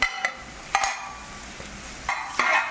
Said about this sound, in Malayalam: ഇനി നമ്മൾ സ്പ്രിംഗ് ഓണിയനും പിന്നെ എന്താ സെല്ലറിയാണ് ഇടുന്നത്.